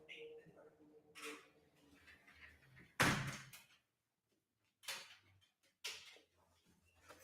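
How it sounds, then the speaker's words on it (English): An indoor door pushed shut during a home live stream, giving one sharp loud thump midway, with someone talking before and after it. "I need to close that door."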